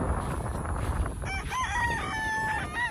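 A rooster on a crowded chicken farm lets out a clear crow in the second half, rising over dense background clucking and flock noise that fills the whole moment.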